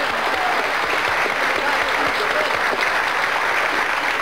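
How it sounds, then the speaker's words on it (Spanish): A studio audience at a Peruvian game show breaks into loud, dense applause that stays constant throughout, a close, uniform roar of clapping. "¡Aplausos!"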